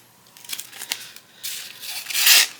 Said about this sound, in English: I think I'm going to trim this down.